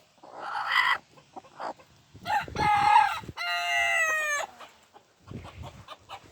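Chickens and roosters in a backyard henhouse, with clucks, squawks and a harmonic crowing call in close bursts separated by short pauses.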